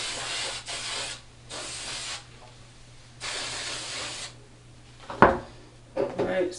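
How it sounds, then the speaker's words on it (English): Short hissing bursts of pink oil sheen hair spray applied to braids, about three separate sprays of uneven length followed by a few sharp handling knocks and rustles. "get some oil sheen too. Has some pink oil sheen."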